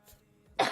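A single loud, close cough bursts out near the end after a quiet stretch with only a faint earlier sound.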